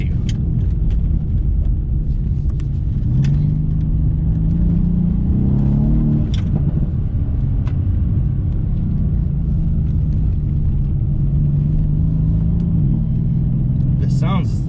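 CarBahn-tuned Mercedes-Benz AMG C63 GTS engine pulling under acceleration, a loud continuous rumble with rising and falling pitch as it shifts, heard from inside with road noise throughout.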